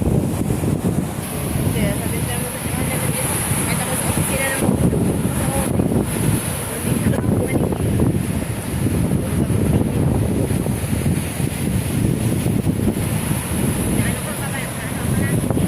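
Strong wind and rough sea waves pound the shore during Typhoon Goring, a loud, steady roar of gusts and surf that continues throughout, with voices faintly present beneath.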